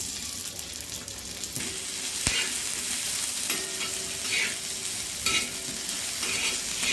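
Chopped garlic and coriander stems sautéing in oil for a spicy chicken curry masala, a steady bright sizzle throughout with intermittent scrapes and clinks of a spoon stirring the pan, close and continuous with no talking.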